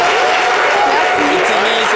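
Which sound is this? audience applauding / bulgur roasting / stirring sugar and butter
audience applauding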